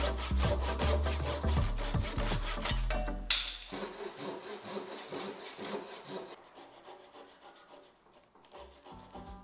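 Hand sawing through the excess length of wooden workbench stretchers, rhythmic rasping back-and-forth strokes, loud and close at first, then lighter, quieter strokes trailing off, with no voices.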